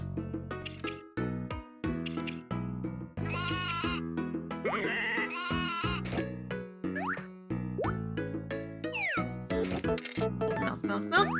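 Sheep in the Harvest Moon: Tale of Two Towns video game bleat repeatedly in short cartoonish calls over cheerful game music and sound effects, loud and clear.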